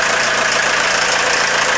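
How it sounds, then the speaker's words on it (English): A VW Golf diesel engine runs steadily just after a timing belt change, giving a loud, close, continuous clattering idle with no talk over it. "sounds like a diesel."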